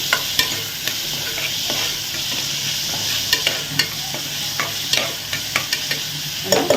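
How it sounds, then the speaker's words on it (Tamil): Onions sizzle in a hot pan, sautéing until golden brown, while a utensil scrapes and taps against it in irregular strokes, close and fairly loud. "வெங்காயம் வந்து கோல்டன் கலர் ஆகும் வரைக்கும் வதக்குவோம்"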